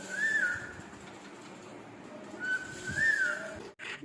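A parrot gives two soft rising-and-falling whistles a few seconds apart, fairly faint, over a quiet room background.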